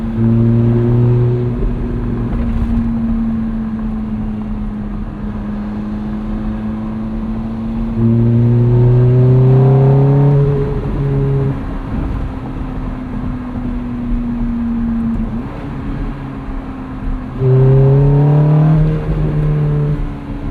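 A 2008 Ferrari F430 Spider's V8 engine revs hard while driving, climbing through the gears in three loud, rising bursts toward high rpm, with steady engine drone and road noise between them.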